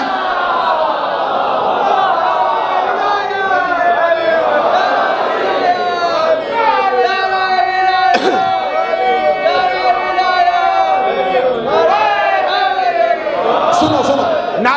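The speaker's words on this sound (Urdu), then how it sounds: "نعرے بے شک کم لگانا" Audience at a religious majlis gathering chanting slogans together, a loud sustained mass of voices rising and falling in rhythmic shouted phrases, with crowd babble underneath throughout.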